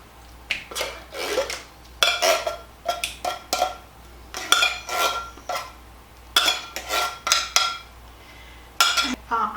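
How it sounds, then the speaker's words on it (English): Cream of mushroom soup is scraped and spooned into a hamburger mixture, with repeated clinks and scrapes of a utensil against a pan or bowl in short irregular bursts, fairly quiet and close. "now I'm going to be adding in my cream of mushroom soup"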